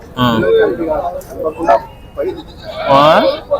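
Several large goats bleat loudly in wavering cries at a livestock market, one near the start and another toward the end, with murmur between.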